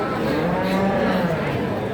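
A cow lows at a busy cattle market in Tuban, a drawn-out moo rising over a steady crowd murmur and background chatter.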